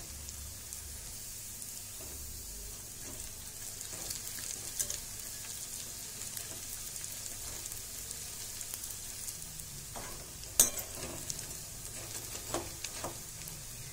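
Sago and potato fritters deep-fry on a low flame, a soft continuous crackle with occasional sharper pops, close and fairly quiet, with no one talking.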